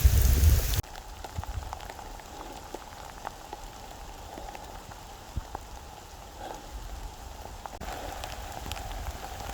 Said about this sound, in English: Even though it's raining, it's still beautiful